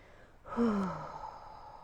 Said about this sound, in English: And then exhale through the mouth for 8.